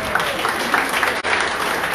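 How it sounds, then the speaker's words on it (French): An audience at a book presentation applauding, a dense, steady patter of clapping hands that continues evenly throughout with a brief dip in the middle. "Applaudissez-les aussi, on est là."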